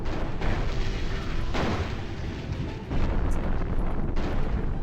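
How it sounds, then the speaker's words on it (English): Airstrike explosions in the MechCommander video game roll out as a continuous wall of heavy, rumbling booms, with a few sharper bursts breaking through the dense low roar. "Okay, I'm gonna call in airstrike."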